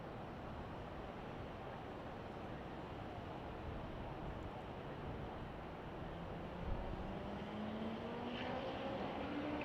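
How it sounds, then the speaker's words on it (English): A Boeing 787 Dreamliner airliner on a United flight from Barcelona arrives at Chicago O'Hare, heard as a steady, broad engine roar that holds throughout with a faint rising whine near the end. "This is a Dreamliner coming in from Barcelona, United Flight 770."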